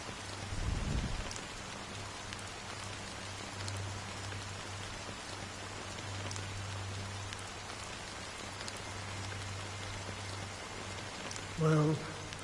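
Steady rain patters on surfaces in the Honkai: Star Rail game, a soft continuous hiss at moderate volume with a low hum underneath and a brief low thump near the start and another just before the end.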